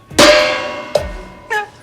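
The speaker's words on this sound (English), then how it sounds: "Bad pitches get the gong." A gong rings out with a loud metallic clang that fades slowly, followed by two lighter strikes, all close and with no voices.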